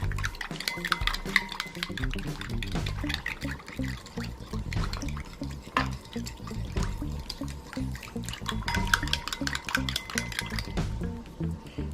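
Yeast being stirred into warm milk in a bowl, a brisk run of clinking spoon strokes and soft liquid swishes repeating close up under quiet speech.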